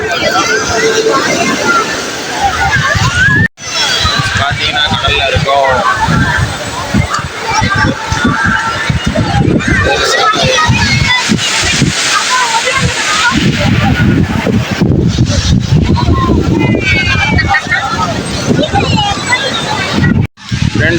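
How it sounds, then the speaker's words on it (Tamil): Sea water sloshes and splashes steadily around a boat off Tiruchendur, loud and close for the whole stretch, with a busy babble of voices mixed in. "பார்த்தீங்கன்னா கடல்ல இருக்கோம்."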